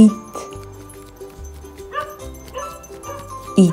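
A domestic dog gives a few short, sharp barks spaced apart, close and fairly loud, over soft background music.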